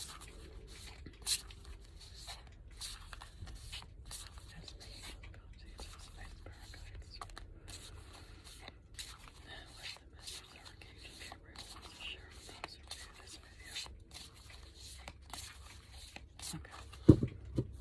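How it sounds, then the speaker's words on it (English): Oracle cards being shuffled by hand give a soft, close run of papery rubs and light taps repeating in an irregular rhythm, faint and quiet throughout, with a sharper click near the end. "let's shuffle the cards"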